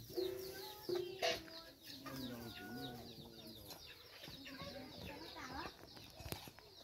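A chicken clucks in short, irregular calls, fairly faint and close, with other fowl-like coos and scattered farmyard noises around it.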